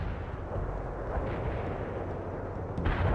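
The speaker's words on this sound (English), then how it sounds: "Our grenades were fired on the coordinates." Grenade fire in the World in Conflict strategy game during a guerilla warfare battle, a dense, steady low rumble of distant artillery-like blasts with a heavier thump near the end, no talking.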